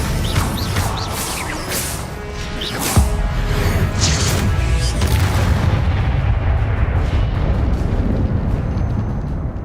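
An Incendio fire spell blasts in Hogwarts Legacy, a loud booming burst with crackling, rumbling tails that roll on continuously and build again toward the end.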